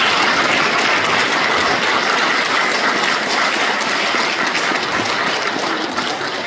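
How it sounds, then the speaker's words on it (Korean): A congregation at a Won Buddhist temple service claps loudly and continuously, a dense, steady wash of applause that holds for the whole stretch, with no talking. "다시 한번 큰 박수로 응원합니다"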